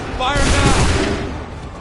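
Soldiers fire a loud, dense musket volley in Assassin's Creed 3 on PS4, a booming burst of overlapping shots that rolls on and fades over a couple of seconds.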